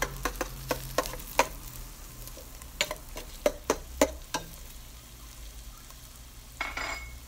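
Ground beef stirred in a pan, with a run of sharp spatula clacks and scrapes against the metal over a low frying sizzle, close by, fading toward the end.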